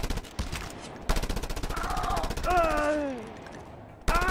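Video game gunfire from Just Cause 2, with rapid automatic bursts of shots repeating loudly, interrupted by a short gap and a voice talking over the middle of the sequence.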